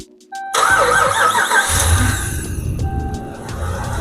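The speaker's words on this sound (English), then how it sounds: "So I'm gonna go and start it up and see if it makes a difference." A HEMI engine with a lifter tick cranks briefly and then fires up loudly, settling into a steady, smooth idle that stays close and continuous to the end.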